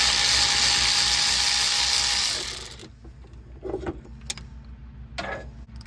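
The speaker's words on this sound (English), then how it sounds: "we got to remove this last 11 millimeter bolt" A ratchet works loose the last 11 mm bolt holding the transmission pressure transducer on a Dodge 46RE, with a loud steady whirring for the first half, then quiet scattered clicks and metallic taps close by.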